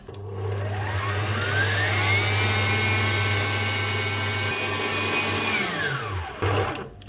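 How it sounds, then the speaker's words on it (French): A stand mixer whisks cake batter for a chocolate fondant until pale, its motor whining up to a high steady pitch, holding, then winding down, loud and close with no speech. "au robot, on fouette bien jusqu'à ce que le mélange blanchisse"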